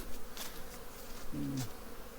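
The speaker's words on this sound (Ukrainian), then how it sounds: "в дворі куча бджіл" Bees buzzing in a yard during a winter cleansing flight, with faint scattered buzzes that rise and pass over a soft outdoor background.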